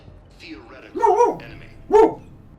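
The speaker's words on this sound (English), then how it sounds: "My dog either woke up from a bad dream or was bored." A pet dog gives two short barks or yips about a second apart, close by and fairly loud in an indoor room, with no talk over them.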